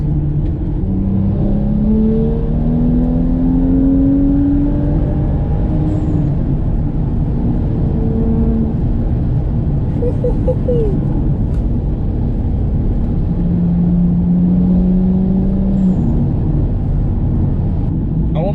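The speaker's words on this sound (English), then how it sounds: "This car is quick and loud." 420-horsepower BMW car accelerating hard on the road, its engine note rising in pitch through repeated gear pulls, loud and close from inside the cabin with a constant road roar beneath.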